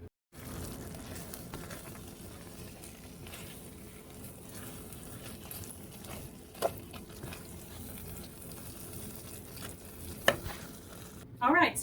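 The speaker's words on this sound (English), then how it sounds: "So I'm going to just get this fully stirred" A cornbread casserole mixture is stirred in a pot, giving a faint, steady low bubbling and soft scraping throughout, with a couple of brief knocks of the spoon near the end.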